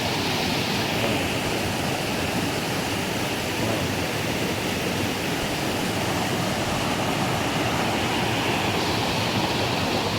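Water pours from an irrigation spout at the edge of rice paddy land, a loud, steady rushing roar that holds without a break and carries no voices.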